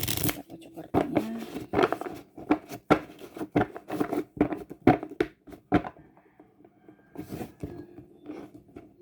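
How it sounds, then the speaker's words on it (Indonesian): Tarot cards shuffled by hand, giving rapid papery riffles and slaps close to the mic that stop partway through, with someone talking over them. "Kita kocok kartunya."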